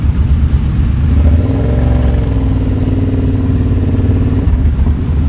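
Several motorcycles ride together on a charity group ride in Edinburgh, a Honda 250 among them just ahead, their engines a loud, continuous close-up drone with gentle rises in revs and no talking.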